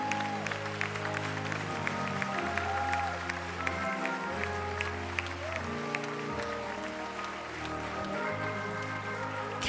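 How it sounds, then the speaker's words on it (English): Audience handclapping at a live gospel concert in an auditorium, sounding as scattered claps over sustained organ and band music, moderately loud, with some crowd noise. "clap your hands for them"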